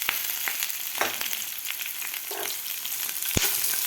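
Chopped capsicum and potatoes fry quietly in a pan, a soft continuous sizzle dotted with small crackles and a sharper pop near the end.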